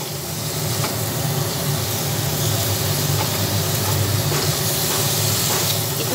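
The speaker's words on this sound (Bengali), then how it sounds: "হলুদ দেওয়ার পরে ভালোভাবে এটা নেড়ে চেড়ে ভেজে নিচ্ছি" Chunks of pumpkin and eggplant with turmeric sizzle steadily in a pan, a continuous frying hiss with faint stirring scrapes and no talk.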